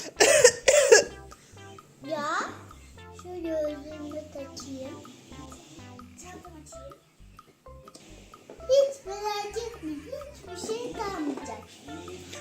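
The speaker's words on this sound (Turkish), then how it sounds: "çok öksürüyorum" A child coughs in a burst of several harsh coughs at the start, followed by child speech and babbling through the rest.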